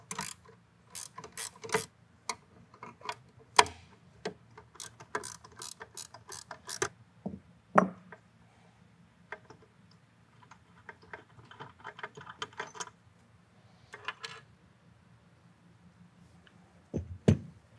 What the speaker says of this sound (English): For this, you'll need a half inch wrench. To do this, you'll only need to remove the outside two bolts.